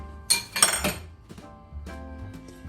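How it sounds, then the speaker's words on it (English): A spatula scrapes squash casserole out of a mixing dish: a few brisk, clattering scrapes and clinks up close, then softer utensil contact against the dish, with no talking. "I'm gonna grab a spatula"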